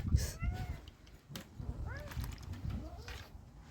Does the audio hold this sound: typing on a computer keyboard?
no